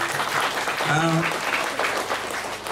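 Audience applause at a Balinese comedy show, a dense wash of clapping with a voice briefly calling out over it midway.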